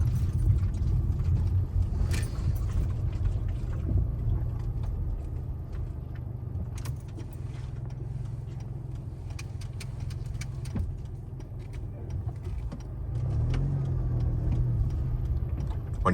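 A car idles and rolls slowly with a steady low engine rumble and road noise during a road-test drive near Niagara Falls, with occasional light ticks over a continuous hum.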